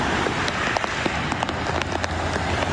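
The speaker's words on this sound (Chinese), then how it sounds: "高雄是清晨大雨来袭" Heavy rain pours onto a flooded road in Kaohsiung during a morning downpour, a dense, continuous hiss with scattered sharper splashes, loud and close throughout.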